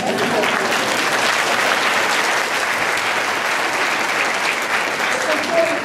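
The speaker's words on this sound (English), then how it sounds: "We can do an applause for that." An audience of middle school students in Jackson, Mississippi applauds, a loud, continuous wash of clapping that holds steady for several seconds with a murmur of crowd underneath.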